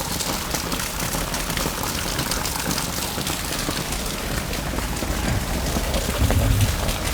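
Steady, dense rain pours down at a fishing spot beneath a bridge, a constant close hiss of drops with no pauses and a slight low thump near the end.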